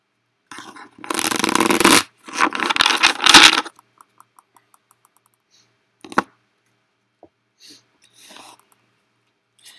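Tarot cards being shuffled: two loud riffling bursts up close, followed by a run of light evenly spaced taps as the deck is squared, then a few scattered soft clicks.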